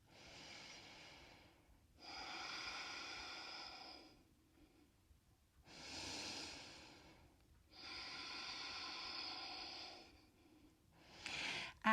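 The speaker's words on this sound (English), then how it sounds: "And breathing deeply." Slow, deep breaths during a yoga practice: four long, close inhale-exhale sounds in steady rhythm with quiet pauses between them, ending in a brief sharper breath.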